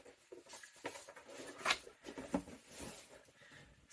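Paper banknotes being shuffled and counted by hand while stuffing cash into budget envelopes, a soft, quiet papery rustle with a few brief, sharper flicks and crinkles.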